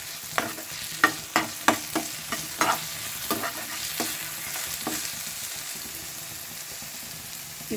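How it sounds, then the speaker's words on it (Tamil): Onion with ginger garlic paste sautéing in a pan, a steady close sizzle with a quick run of sharp spatula taps and scrapes early on that thin out as the frying continues. "இதை கொஞ்சம் பச்சை வாசனை போகிற அளவுக்கு வதக்கலாம்."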